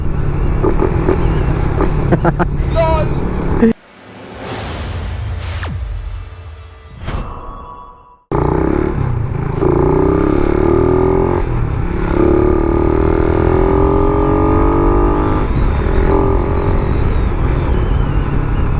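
A Suzuki Raider 150fi motorcycle with an open throttle body revs hard and close, loud and raspy, with a brief break in the middle before the engine roars back and keeps revving.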